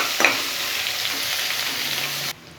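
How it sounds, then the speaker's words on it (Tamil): Sliced onion sautéing in a pan for mint rice, a steady close sizzle with a brief clatter near the start as it is tossed in, cutting off abruptly at the end. "ஒரு வெங்காயத்தை கட் பண்ணியிருக்கேன். சேர்த்துட்டு நல்லா வதக்கணும்"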